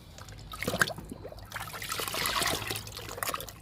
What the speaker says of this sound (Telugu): ఒక్కొక్క మొక్కకి రెండు మొగ్గులు ఇస్తున్నాను ఫస్ట్ డబ్బాలో పోస్తున్నా